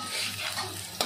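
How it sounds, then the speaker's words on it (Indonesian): Garlic sizzles and crackles steadily in a hot, preheated wok for a short stretch, with a brief clatter at the end as it is stirred. "Masukkan bawang putih, dua saja bahan-bahan tumis yang digunakan."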